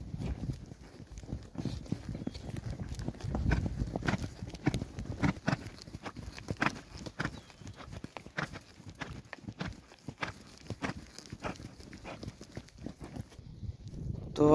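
A horse trotting in Kuwait while being worked, its hooves clip-clopping in a steady, quick rhythm close by for the whole stretch, with faint background noise.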